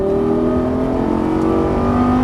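A Lamborghini Gallardo's engine strains steadily under throttle on a racetrack, a loud, continuous close-up drone with a rising tonal pitch through the whole stretch.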